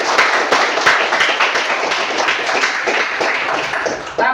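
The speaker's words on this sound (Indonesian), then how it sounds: "Tepuk tangan dulu buat Dery." Sustained, loud applause from a room of people clapping for a participant named Dery, dense and steady for several seconds before cutting off near the end.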